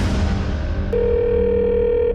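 A steady telephone call tone comes on and holds as one long, clear beep over dense background noise before a switched-off phone message.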